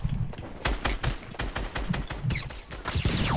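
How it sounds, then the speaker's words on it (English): Close, loud gunfire rips through a shooter video game, rapid automatic bursts and single cracks stacking in quick succession without any voices. "Oh, I'm getting shot at, I think."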